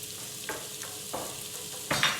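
Steak sizzling and frying in a pan over medium heat with onion, stirred by a utensil in several distinct scraping strokes over a steady close sizzle, ending in a louder stir.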